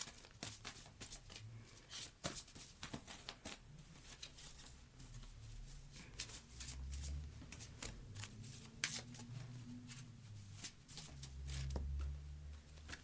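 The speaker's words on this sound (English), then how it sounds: "I will pull a prayer card to finish off the reading." Tarot prayer cards being shuffled by hand, with soft riffling and flicking sounds in quick, irregular bursts, close and fairly quiet, with no talking.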